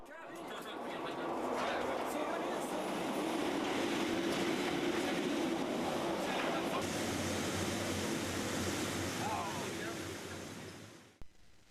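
Metre-gauge train pulling out of Disentis-Münster station in Switzerland, a continuous rolling rumble and rail noise heard from aboard, steady and moderately loud, with a low hum entering later.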